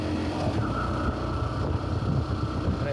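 A motorbike engine drones steadily while riding along a road near a waterfall, with wind buffeting the microphone over a low, continuous rumble.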